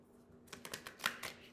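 A stiff, gold-edged tarot deck being shuffled by hand, giving a quick run of crisp, close riffling flicks and snaps in an uneven rhythm, loudest near the middle, with no talking.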